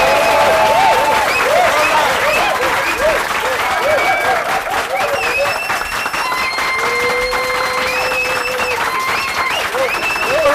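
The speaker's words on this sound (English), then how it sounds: "a warm round of applause for the man" A loud, sustained round of applause and cheering from a studio audience welcomes guest Chief Dele Momodu onto a talk show, with whoops rising above the steady clapping.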